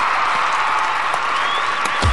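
A crowd applauds a performer named Sandra Laylock, a steady wash of clapping with a few whoops rising near the end, no words spoken over it.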